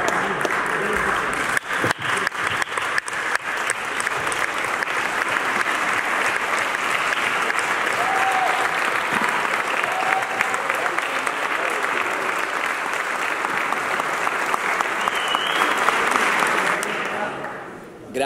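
Sustained applause from a large crowd at a Base Riformista convention of Italy's Democratic Party, greeting Luca Lotti as a speaker, steady and dense for about seventeen seconds before fading out at the end.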